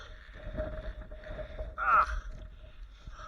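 Wind blowing hard in a snowstorm, buffeting close against the microphone with rumbling gusts and one stronger surge midway, and no talk heard.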